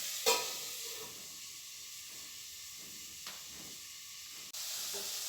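Chopped onions and tomatoes sauté in a pan for a soybean curry, giving a steady close hiss and sizzle with a couple of faint stirring scrapes and clicks.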